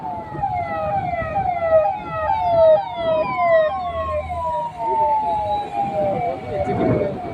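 A wailing ambulance siren sweeps up and down repeatedly, fairly close, with traffic rumble and voices talking underneath.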